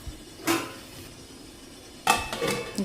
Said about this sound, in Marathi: 5 मिनिटं आपण झाकण लावूया